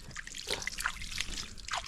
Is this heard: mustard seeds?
no